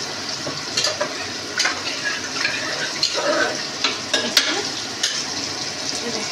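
Water poured into lentils cooking in a pan on the stove brings loud frying and sizzling with repeated stirring scrapes and splashy bursts, continuous and close.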